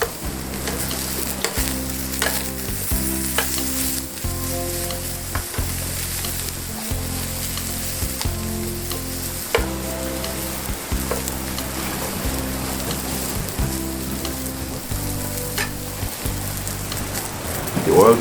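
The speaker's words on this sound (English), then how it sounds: "Fry about 5 minutes till brown" Brussels sprouts with bacon sizzle and spatter in a frying pan, a loud, continuous crackling fry with regular stirring thumps over nearly twenty seconds.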